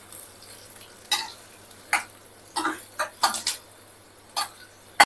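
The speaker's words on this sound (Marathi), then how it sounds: "आता कांदा पण छान भाजून घेऊया।" Finely chopped medium onion frying in a pan for an okra stir-fry, with a soft steady sizzle broken by several sharp scraping and stirring clinks from a spoon against the pan.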